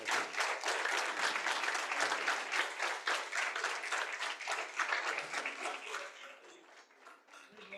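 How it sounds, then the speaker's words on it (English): Audience at a Founder's Day morning lobby session applauding the chairman, many hands clapping in a full, rhythmic wave that gradually thins and fades toward the end. "can I request you all to keep the applause going for our beloved chairman?"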